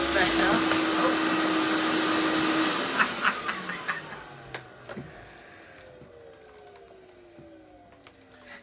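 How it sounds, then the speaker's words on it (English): A vacuum cleaner runs loud and steady at close range, then its motor winds down with descending whine and a few clicks and knocks until it fades to near quiet. "It's obviously a quality vacuum that you've purchased."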